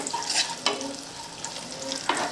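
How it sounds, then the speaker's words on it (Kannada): Cashews, almonds and raisins frying in a pan give a steady close sizzle with a few sharp scraping stirs, no talk. "ಗೋಡಂಬಿ, ಒಣ ದ್ರಾಕ್ಷಿ ಎಲ್ಲ ಫ್ರೈ ಆಗ್ಯಾವು"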